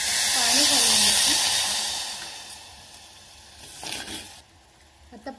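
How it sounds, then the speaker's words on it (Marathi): A sugar and water syrup for besan barfi comes to the boil in a pan, giving off a loud hiss that slowly fades, with a brief rustle later and a faint voice early on. "आता पाक आपला उकळायला लागला आहे"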